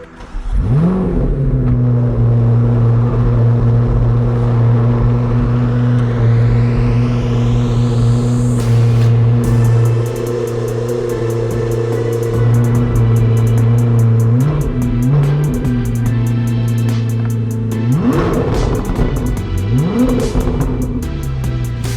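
A 1,064 hp Chevrolet Corvette ZR1 pulls away and accelerates hard, its engine droning loudly with rising and falling revs as gears change over roughly twenty seconds.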